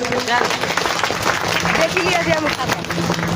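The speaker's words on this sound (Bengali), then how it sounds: "সকলে হাততালি দেন।" Audience applause at a prize-giving ceremony, a dense burst of clapping from a crowd filling the short stretch, loud and close, with voices talking over it.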